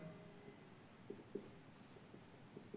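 Pen writing examples by hand on paper, faint scratchy strokes with a few soft taps, quiet and close in an otherwise still room with no talking.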